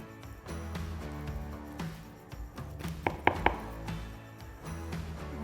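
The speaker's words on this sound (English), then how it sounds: "I have a very, very sharp knife to get through those walnuts" A very sharp knife chopping walnuts on a board for a peanut butter brownie recipe, a few distinct crisp taps around the middle among softer irregular cutting sounds and low background hum.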